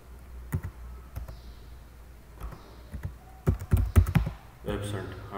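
Typing on a computer keyboard while writing in Microsoft Word, close up: scattered key taps at first, then a denser burst of clicks, with someone speaking briefly near the end.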